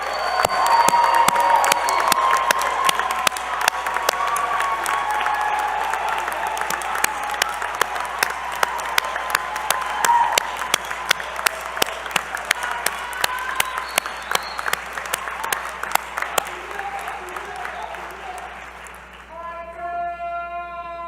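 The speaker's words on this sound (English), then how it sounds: "I invite those in attendance to join me in applauding your success" A large commencement crowd applauds loudly with some cheering, the clapping thinning out before stopping near the end as a soft chime plays.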